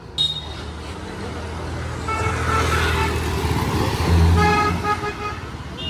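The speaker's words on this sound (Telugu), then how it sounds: "హారన్ సౌండ్తో పాటు కొంచెం మనకి టర్బో సౌండ్ కూడా వస్తుంది." A Skoda Octavia vRS petrol car idles and pulls away, its engine humming under several short horn toots, with a faint turbo whoosh rising as the car accelerates.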